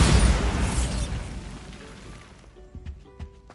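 A Bombarda blasting spell exploding in Hogwarts Legacy: a loud, booming burst up front that rolls into a long decaying rumble, followed by a few faint clicks and small debris ticks as it settles.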